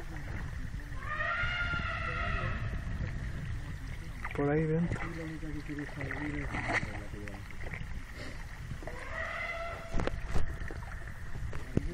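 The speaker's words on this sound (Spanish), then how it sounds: "Elephant song." Elephants call in the Chitwan jungle of Nepal, with several rumbling, trumpeting cries at mid distance amid forest ambience, while people speak softly nearby.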